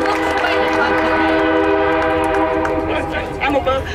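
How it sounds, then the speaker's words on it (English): A train rumbles past close by an outdoor rally in Kalamazoo, Michigan, with a sustained horn-like tone and rolling noise, loud and continuous, with some faint voice near the end. "I'm not going to compete with the train for 1 second."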